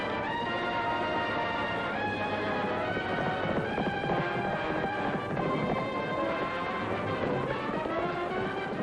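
Horse hooves clip-clopping at a steady gait beneath a dense, continuous orchestral music score, the hoofbeats fairly close but partly masked by the strings.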